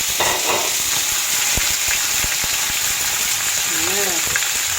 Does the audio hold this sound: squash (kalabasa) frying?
yes